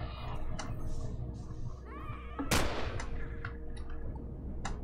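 Shotgun gunfire in the space survival game Empyrion Galactic Survival: one loud, sharp blast near the middle over a busy bed of game sounds, with some shorter bursts and a whining tone before it.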